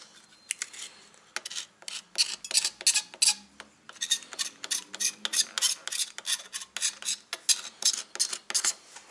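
Light scraping of dirt and old adhesive off a dirt bike handlebar after a degreaser spray: a quick series of close, crisp scratchy strokes in uneven rhythm, with short pauses between bursts.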